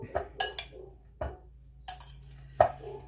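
Citrus salad is tossed in a bowl, with a handful of sharp clinks and scrapes of utensils against the dish, spaced irregularly and fairly close, with no talk.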